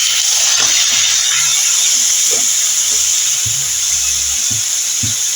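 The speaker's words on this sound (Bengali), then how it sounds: "এর মধ্যে আমি মাছের তেলটা দিয়ে দিলাম।" Fish oil sizzling in a pan with fried onions: a steady, loud hiss fills the whole stretch, with occasional soft low knocks and bubbling pops beneath it.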